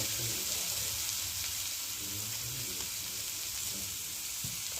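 Mashed green peas fry in oil for a kachori filling, with a soft, even sizzling hiss that holds steady and close for the whole stretch.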